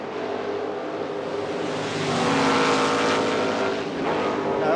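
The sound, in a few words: Formula 5000 race cars racing past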